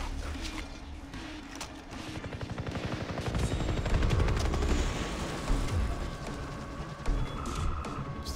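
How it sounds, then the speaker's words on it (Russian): Sustained automatic fire from a mounted machine gun in the Far Cry 3 video game: dense, rapid bursts that build and grow louder through the middle, with booming hits and background game noise mixed in. "Стационарный пулемет"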